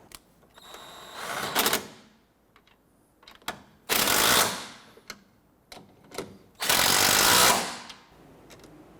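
Bolts being tightened on the crankshaft vibration damper of a 1992-1996 Toyota Camry 2.2L four-cylinder: a few light clicks, then three loud, harsh mechanical bursts of about one second each, separated by short quiet gaps.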